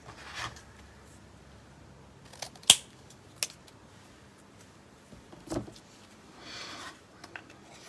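Scissors trim a card's edge at a crafting table: a few sharp, quiet snips spaced apart, with soft rustles between them in an otherwise hushed room.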